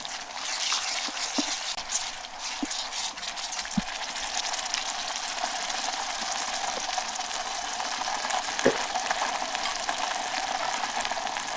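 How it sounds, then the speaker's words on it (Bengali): Chicken sautéing with garlic, ginger, garam masala and cumin pastes in a small mini rice cooker gives a steady, close sizzle with light stirring and occasional faint clinks. "এখন আমি সুন্দর করে কষাই নেব"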